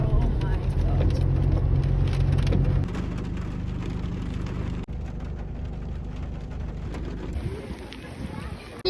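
Heavy rain falls in a steady dense hiss, loud and continuous across the whole stretch, with a low rumble underneath and voices speaking over it.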